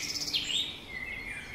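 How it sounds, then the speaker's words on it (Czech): A Eurasian pygmy owl calls over a mountain spruce plateau: thin, high tonal notes rise and fall in a short, fairly clear phrase against faint background hiss. "Po několikaleté přestávce se náhorní plošinou znovu ozývá tesklivé houkání naší nejmenší sovy"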